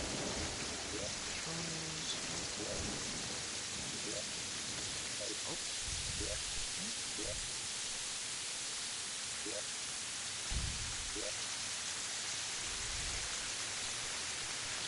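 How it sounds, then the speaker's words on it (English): Rain in the video game Terraria, a steady hiss of falling drops over a faint ambient backdrop, with a few soft tonal game sounds scattered through. "the rain's loud"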